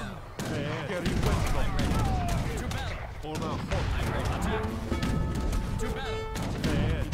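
Infantry musket fire in the Age of Empires 3 campaign on Hard, dense crackling volleys and scattered shots over battle noise, with someone talking throughout.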